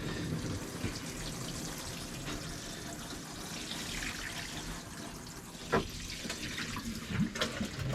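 A greenhouse watering of potted tomato plants, a steady close splashing and trickling flow of water with occasional louder knocks and drips, no voices.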